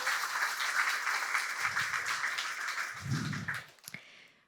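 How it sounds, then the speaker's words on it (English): Applause from an audience at a startup demo day honouring business mentors, steady clapping that thins out and trails off toward the end, with brief low bumps of other sounds underneath. "So let's have a round of applause for our business mentors."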